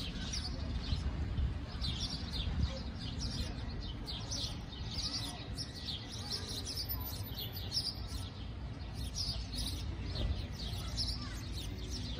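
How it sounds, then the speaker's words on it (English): Birds chirping outdoors at the Corn Palace, many small rapid tweets repeating throughout over steady broadband background noise, fairly faint and with no clear talk. "Look at the birds."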